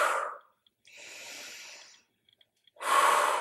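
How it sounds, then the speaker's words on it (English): Steady breathing during a glute-strengthening workout, a soft exhale followed by a longer airy breath and another strong exhale, close and quiet with no speech. "Exhale as you go out."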